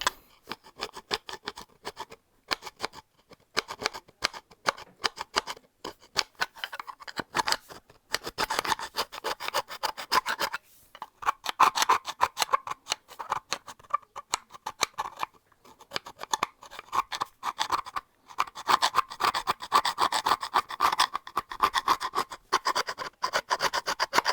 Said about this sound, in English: I'll give the top of this a quick scrape as well.